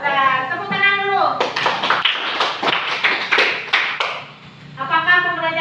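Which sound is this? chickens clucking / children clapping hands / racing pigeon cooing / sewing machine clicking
children clapping hands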